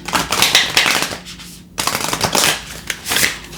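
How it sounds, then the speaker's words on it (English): Tarot cards are shuffled by hand in the air, making close, crisp riffling bursts that stop briefly partway through and then pick up again. "It's kind of hard air shuffling"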